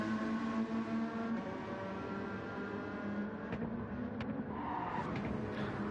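In a Gr.3 racing video game at the Red Bull Ring, a race car brakes too late and runs off the track, its engine droning loudly with brief tire squeals and skid noise near the end, no voices.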